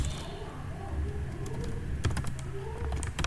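Keys tapped on a computer keyboard while code is entered, a steady run of light clicks over a low background hum, with a denser burst of keystrokes near the end.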